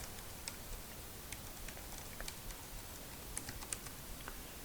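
Username keystrokes typed on a computer keyboard during a login setup, a steady run of light, quiet clicks with a few sharper taps standing out over faint room hiss; no one talks.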